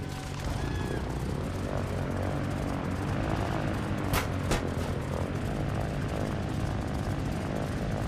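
A helicopter's rotor and engine drone steadily and loudly throughout, as heard in the building game Trailmakers, with a couple of brief sharp clicks partway through.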